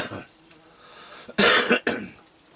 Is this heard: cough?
yes